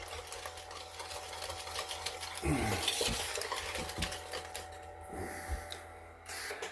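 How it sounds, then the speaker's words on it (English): Zucchini bread batter being stirred by hand in a bowl, a steady scraping and swishing churn with a few clinks of the utensil against the side, close and continuous with no talking. "Mix that all up really good."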